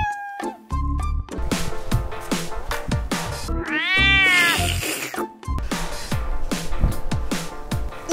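A cat meows in a drawn-out, rising and falling call near the middle, set against a busy musical backing with a steady beat in a comedic dance scene.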